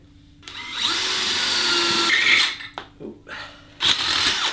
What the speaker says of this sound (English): You're going to take a big drill bit.